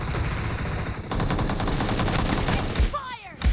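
Sustained automatic gunfire in the mobile shooter BGMI during a team deathmatch, a dense rapid stream of shots for about three seconds, then a couple of heavier blasts, loud and close.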